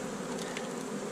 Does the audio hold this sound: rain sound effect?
no